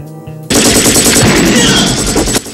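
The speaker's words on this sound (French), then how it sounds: "un petit extrait de Commando avec Arnold Schwarzenegger, et si vous regardez bien, vous verrez que la bande de cartouches de sa mitraillette" Machine gun fire from the action film Commando, a loud sustained automatic burst of rapid shots that starts abruptly after a short quiet lead-in and cuts off near the end.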